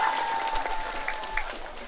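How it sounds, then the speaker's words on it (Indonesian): Audience applause for the organisers at a Maulid Nabi Muhammad gathering at a majelis ta'lim, a steady crowd clapping that fills the whole two seconds at moderate volume, with no talk over it. "Berikan tepuk tangan untuk para panitia pada hari ini"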